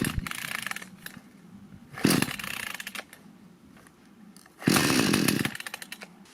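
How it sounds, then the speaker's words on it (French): Lidl Parkside petrol chainsaw engine idling, with two loud bursts of revving that rise and then fall back to a steady idle, heard close up. "Le moteur a démarré et s'est arrêté, c'est normal."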